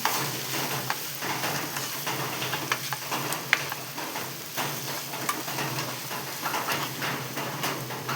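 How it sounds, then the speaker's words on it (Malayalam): Mushroom masala curry being stirred in a hot pan, a steady sizzle with frequent scraping clicks of the spoon throughout, fairly close and with no talking. "എല്ലാം കൂടി ഒന്ന് ഇളക്കി വെക്കട്ടെ."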